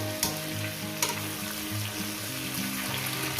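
Oil frying in a pan with salt, sugar and turmeric for a Bengali catla fish-head chorchori with pumpkin and pui shak: a steady, close, continuous sizzle with stirring scrapes and no talking.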